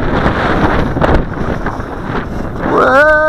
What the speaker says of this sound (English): Just see how much you can fight that wind.